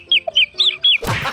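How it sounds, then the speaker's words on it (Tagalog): A chicken gives four quick, high, sharp clucks in a rapid series, close and loud, followed by a short burst of rough noise. "Manok pa."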